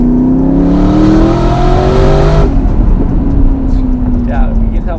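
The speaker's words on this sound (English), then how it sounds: "you can tell when the wastegate opens," A twin-turbo Ford GT of over 1000 hp accelerates hard, its rising engine note climbing loudly for a couple of seconds before cutting off into a whooshing release as the wastegate opens, followed by a lower, fading drone.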